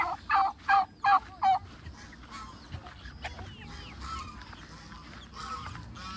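Four loud honks ring out in quick succession from nearby geese and ducks on a Philippine farm, followed by fainter scattered calls over a low background rumble.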